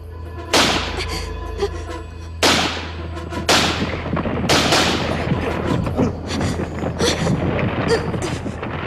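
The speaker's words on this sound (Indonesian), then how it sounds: "Siapa suruh kamu menembak?" Several loud gunshots ring out near a cave entrance, four sharp blasts with echoing tails spaced about a second apart, followed by continued rumbling reverberation.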